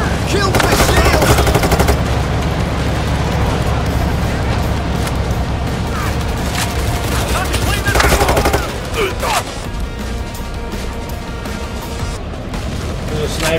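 Dense, rapid automatic gunfire and bursts fill a Payday 3 firefight against police shield units, loud and nearly continuous with sharp impacts layered over game noise, while a player speaks over the shooting.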